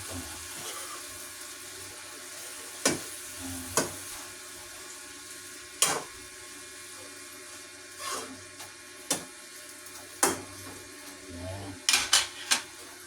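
Tofu, ground pork and kangkong are stirred in a pan, with sharp intermittent clanks of a utensil against the metal at irregular intervals over a faint steady background, a close cluster of knocks near the end.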